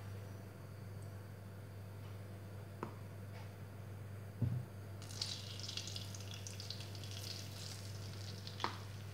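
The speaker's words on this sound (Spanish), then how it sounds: "Vamos a tostarlo un poquito con el aceite." Fine flour toasts in oil in a frying pan, a soft steady sizzle that brightens and grows busier midway, with a few light clinks and scrapes of stirring.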